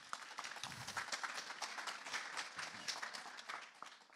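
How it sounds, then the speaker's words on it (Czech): Brief audience applause at a public talk on city hall architecture in Prague: steady, fairly quiet clapping from a modest crowd that carries through the whole few seconds with no voices over it. "já poprosím o krátký potlesk."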